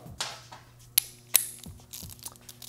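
Socket ratchet clicking as a 22mm socket tightens an aluminium bar end on a 2016-or-later Kawasaki ZX10R sportbike; a few sharp, close metallic clicks with short ratcheting bursts, spaced unevenly and heard alone.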